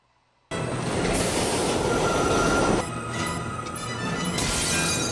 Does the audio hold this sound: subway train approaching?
yes